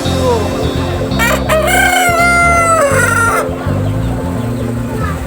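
A Brahma chicken crows once, loud and close, a long rising-and-falling call over a steady low hum of background noise.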